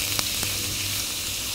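Beef frying in a hot skillet on an electric heating element for a stir fry, a steady bright sizzle close up with a couple of soft pops, no talking.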